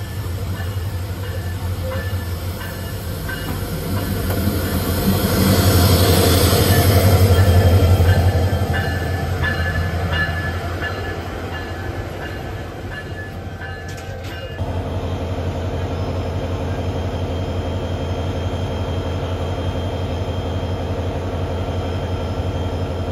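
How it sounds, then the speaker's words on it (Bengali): A Rangpur Express train rolls through Bamondanga station at night, a loud continuous rumble of wheels and carriages building to a peak midway and then holding steady as the train keeps passing, with no talk. "আমাদেরকে বসিয়ে রেখে চলে যাচ্ছে রংপুরগামী রংপুর এক্সপ্রেস।"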